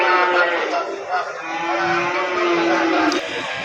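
Cattle at the Payakumbuh livestock market, held for Qurban sales with Bali, Limousin and Simmental breeds, low lowing and moos blending into a busy crowd murmur, with people talking throughout.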